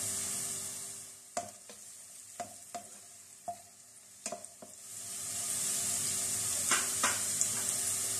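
Steady hiss of whole garam masala spices frying in hot oil for dum ka keema, with a handful of sharp clinks and taps from a utensil, near and fairly quiet.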